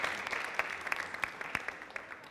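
An audience gives a short burst of applause for two girls' teams after a shootball match, fairly faint and distant, with sharper individual claps standing out.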